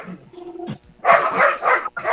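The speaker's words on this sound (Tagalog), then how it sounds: "Ay, mga aso." Several dogs bark loudly and close in bursts, with a short whimpering yelp at the start, during a live radio-style broadcast.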